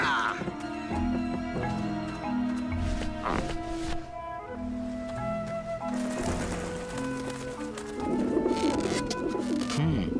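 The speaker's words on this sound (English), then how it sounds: "Run, you pigeons!" Pigeons coo in Grim Fandango Remastered, a steady run of soft, low throaty calls repeating under a tonal game music bed, fairly close and continuous throughout.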